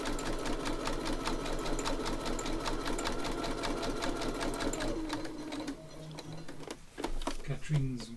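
A sewing machine stitches steadily at a fast, even rhythm, then slows and stops near the end while a person talks over it.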